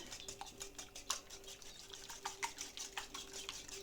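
Whisking tomato sauce made with ketchup and a pinch of salt, rapid rhythmic clicks and taps of a whisk against a bowl, steady and fairly quiet, with a faint hum underneath.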